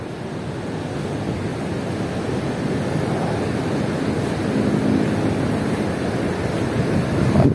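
Surf and wind at Pantai Serunting beach: a continuous broadband roar of breaking waves with gusts buffeting the microphone, swelling slightly louder toward the end, with no voices.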